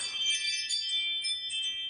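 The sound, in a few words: doorbell chime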